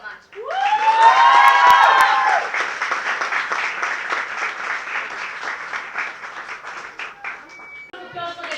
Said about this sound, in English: Applause for the team.